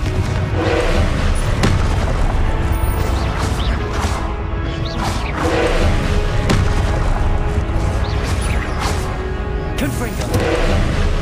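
Repeated Confringo blasting-spell explosions in Hogwarts Legacy, a dense, continuous run of loud crashing booms and impacts with a voice talking underneath throughout.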